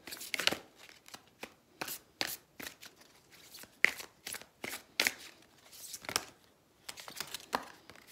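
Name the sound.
drawing and shuffling oracle cards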